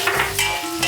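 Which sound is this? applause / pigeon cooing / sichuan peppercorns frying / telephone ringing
sichuan peppercorns frying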